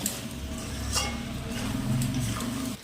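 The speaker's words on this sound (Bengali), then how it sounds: "আলুটা দিয়েও এই মাংসটা আমি আবার দু মিনিট ভালো করে কষিয়ে নেব" Meat and pre-fried potatoes stirred in a pan, with steady low scraping and occasional soft clinks of a utensil against the pan, alone and close.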